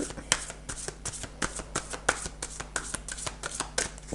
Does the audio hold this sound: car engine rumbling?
no